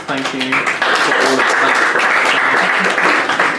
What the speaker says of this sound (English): So a nice big round of applause for Thomas.